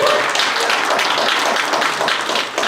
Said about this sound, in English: let's give a round of applause to SOCOM making all this happen